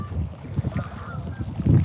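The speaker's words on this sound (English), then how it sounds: "The geese flying." Geese honking as they fly overhead, a ragged series of low nasal honks over a steady outdoor rumble, at moderate distance.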